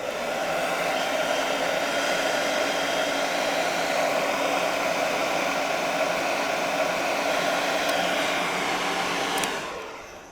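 A heat gun blows a steady, loud, hissing rush of air while heating and stretching car wrap vinyl, running unbroken for about nine seconds before cutting off abruptly.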